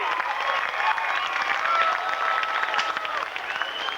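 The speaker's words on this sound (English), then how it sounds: "There you go, race fans. How about a round of applause?" Fans at a 1999 sprint car race at a Riverside Speedway give a round of applause for the night's winner. The clapping is dense and steady, and a voice can be heard over it.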